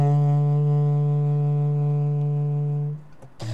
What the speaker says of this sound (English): This means the overtone structure of the saxophone has been overlaid with that of the clarinet.